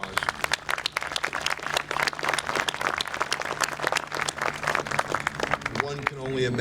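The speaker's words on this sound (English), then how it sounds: "Let's give him a big round of applause." Dense applause from a crowd at an Irish hunger strikers anniversary event, many hands clapping steadily at close range, with a low steady hum underneath and some crowd noise toward the end.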